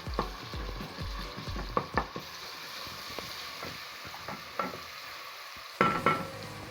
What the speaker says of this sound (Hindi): फिर हम इसमें डालेंगे लहसुन अदरक। इसको ज़रा सा भुनें।